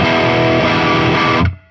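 A Marshall JCM800 50-watt guitar amp with the master volume turned well up gives a loud, sustained distorted chord that rings for over a second and then cuts off sharply, with no talking.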